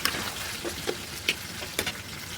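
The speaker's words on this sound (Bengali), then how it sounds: "বাকি বেগুনগুলো ভেজে নেব" Slices of eggplant fry in oil, a continuous soft hiss broken by scattered small crackles and spits, heard close and alone.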